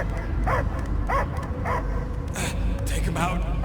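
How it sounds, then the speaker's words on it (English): A dog barks in the Guardians of the Galaxy video game, giving a string of short, evenly spaced barks and yelps over a dense, busy game soundtrack. "I hear only barking."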